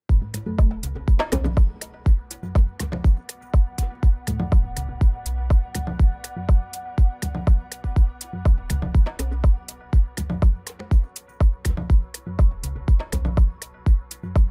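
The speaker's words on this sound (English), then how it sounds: "Let's build our own little percussion loop here." A steady conga percussion loop, deep open tones mixed with sharper slaps, repeating in a brisk syncopated groove with no voices.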